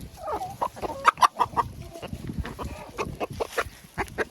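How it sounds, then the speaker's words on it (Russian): Backyard hens clucking and squabbling while being fed bread soaked in cold water, a busy run of close, overlapping clucks and short calls with some scuffling underneath. "Любят мои куры хлеб."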